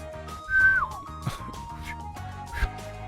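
A short, thin whistled tone rises and slides down once, faint and breathy, over game music with a few soft clicks.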